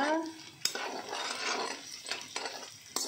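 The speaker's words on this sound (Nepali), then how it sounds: "यो अदुवा लसुन यसरी फ्राई गरेर यसलाई पनि यसरी फ्राई गर्नुपर्छ" Ginger and garlic frying in oil for a chicken pickle, a crackling sizzle punctuated by a few sharp clacks of a spoon against the pan, moderately loud and close.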